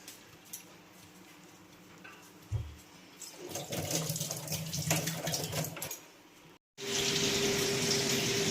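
Tap water runs in a kitchen sink while pomfret fish are washed, starting after a few quiet knocks, splashing steadily and close, then cutting off briefly before a louder, even stream resumes.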